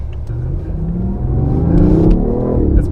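A 2015 BMW i8 hybrid supercar accelerates in sport mode, its engine rising in pitch and loudness over three seconds as a close, steady rumble and whir build, with no talking.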